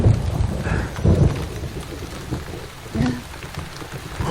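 Heavy rain pours steadily onto a surface with dense, close patter and occasional low rumbles mixed into the wash of the downpour.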